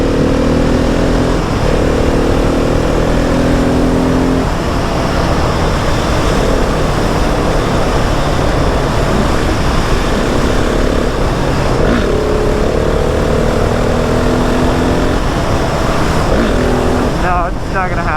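A 2020 Husqvarna 701 SM motorcycle accelerates hard in 4th gear for a wheelie attempt, the loud engine revving up in strong rising pulls, easing off and pulling again.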